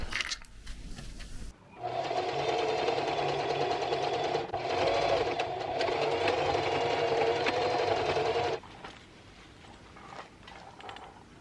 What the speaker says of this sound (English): This is going to be sewed through both layers.